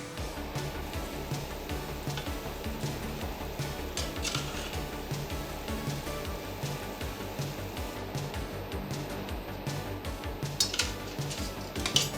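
Chickpeas are tipped into a cooked curry base in a pan, with a fork clinking and scraping against the metal and soft splashy, wet tumbling sounds running close and busy throughout.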